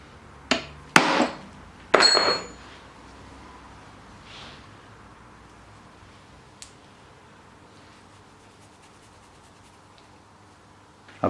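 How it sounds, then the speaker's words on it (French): A hammer drives a chisel against the steering head bearing on a 2019 Yamaha 125 YZ motorcycle, giving three sharp metallic strikes in quick succession near the start, followed by quiet, with a faint tap later and another knock at the very end. "On vient tailler, taper franchement 2-3 coups secs hein, et un coup sec en bas et ça vient bien"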